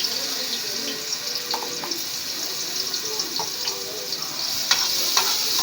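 Garlic frying in a pan until golden, a constant close sizzle broken by small clicks and scrapes of stirring.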